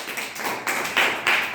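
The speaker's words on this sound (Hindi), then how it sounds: "जोरदार ताली।" Schoolchildren in a classroom clap together after a classmate's story recitation, a brief burst of brisk applause with sharper swells near the end.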